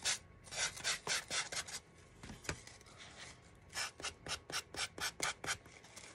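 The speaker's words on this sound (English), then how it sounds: "just take your sandpaper and just sand that edge." Sandpaper rubs back and forth along the edge of a Dollar Tree craft star, a run of quick rasping strokes in bursts with a short pause midway, close and fairly quiet with no talking.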